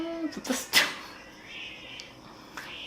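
A house cat meows indoors, with a few short, close cries clustered in the first second followed by fainter, thinner mews, and no talking.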